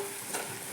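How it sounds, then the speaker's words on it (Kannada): Vegetable curry fries on a gas stove with a steady, faint sizzling hiss and a light stir midway, heard alone and up close. "ಗ್ಯಾಸ್ ಒಂದು ಸ್ವಲ್ಪ ಜೋರು ಇಡಂಡ್ರಿ. ಮೆತ್ತಗೆ ಫ್ರೈ ಅಲ್ರಿ,"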